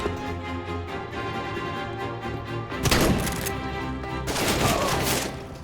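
Rapid bursts of gunfire in a video game, steady rattling fire with two louder, denser volleys toward the end, no talking over it.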